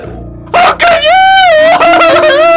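Minecraft Sky Wars poultry sound: a loud, close crow-like call from a chicken that swells and holds, preceded by a few short bursts, with faint game noise trailing after and no voices.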